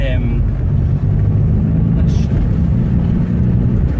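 A classic Mini engine laboring in third gear with the pedal not fully down, a low, strained drone that stays steady and loud under wind buffeting, without clear rise in pitch.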